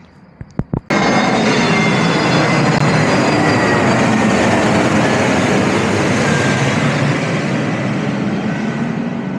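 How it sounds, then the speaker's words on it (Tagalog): An Etihad Airways airplane roars overhead near Al Raha Beach Road in Abu Dhabi, a loud, sustained broadband rush after a few sharp clicks, filling the whole stretch without speech. "Dito na naman dumadaan ng mga eroplano."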